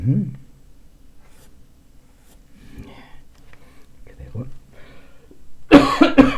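A man coughs once, a loud, harsh burst near the end after quiet murmured talk and soft background sounds.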